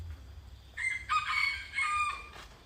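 A single rooster crows once at a distance, its call rising and stretching out over a faint, steady outdoor background.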